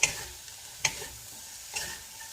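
A wooden spoon stirs bean sprouts and tofu in a frying pan, giving three sharp scraping knocks spaced nearly a second apart over a faint, low sizzle.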